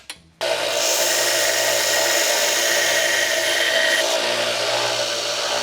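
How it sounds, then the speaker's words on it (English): Belt sander grinding the frayed end of a steel clutch cable flat for a Honda CB550 motorcycle build, a loud steady abrasive whine starting after a brief click and running continuously at close range. "But first I'm going to clean it up on a belt sander."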